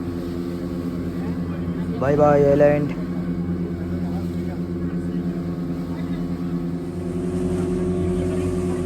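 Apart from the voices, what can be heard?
boat engine leaving island at night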